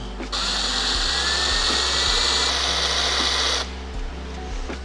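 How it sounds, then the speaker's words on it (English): A power drill whirs loudly and steadily for several seconds close up, drilling down the center of a stud, then spins down to a quieter idle hum. "Now we'll drill down the center of it."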